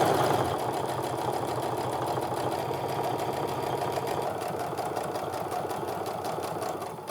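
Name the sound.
sewing machine stitching a second line on a wristlet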